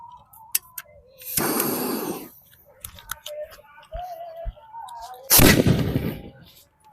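Two loud, sharp broadband blasts from Diwali firecrackers a few seconds apart, each with a short crackling tail, with quieter scattered pops and faint voices in between.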